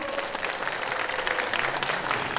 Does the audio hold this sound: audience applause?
yes